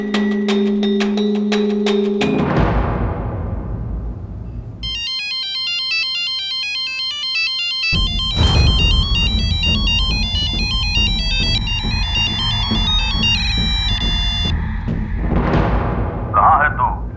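A mobile phone ringtone in a Hindi crime drama scene, bright repeating electronic melody tones ringing steadily over several seconds, mixed with background score and some talk.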